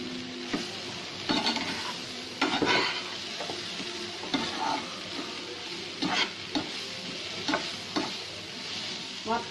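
An onion curry is stirred in a sizzling frying pan, with repeated scraping strokes at an uneven rhythm over a steady close fry hiss, and no voices.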